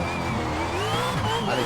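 A car drifts in a racing simulator game, its tires squealing in a steady, wavering screech over engine noise, loud and close for under two seconds.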